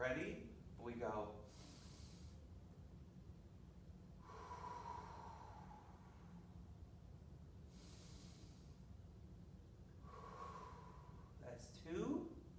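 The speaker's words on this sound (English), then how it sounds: "let's take our 5 deep breaths in and out" Slow, deep breaths in and out during a seated yoga staff pose, several long airy inhales and exhales spaced a few seconds apart, close and quiet.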